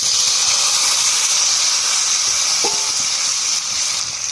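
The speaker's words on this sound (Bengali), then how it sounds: "তেলে ফোড়ন করব। শালগম আর কচু ছোড়াটা দিয়ে দেবো।" Turnip and taro stolons go into hot oil for tempering, producing a loud, steady, close sizzling hiss that continues almost unbroken, with a brief faint tone partway through.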